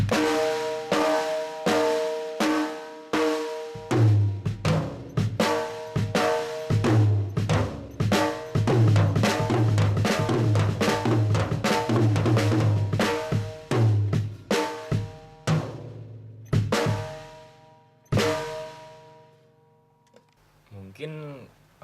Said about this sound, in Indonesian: dipukul dengan kedua tangan berbarengan dinamakan double stroke,